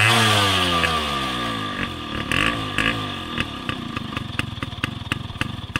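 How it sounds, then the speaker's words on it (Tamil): A Yamaha RX135 two-stroke motorcycle runs close by at a slow idle, its muffler exhaust puttering steadily, then breaks into a series of sharp rhythmic pops and blips from the pipe. "மச்சானோட ஒன் தேர்ட்டி ஃபைவோட சவுண்டை பாருங்கள் சவுண்டு வந்து இது மஃப்ளரோட சவுண்டு தாங்க"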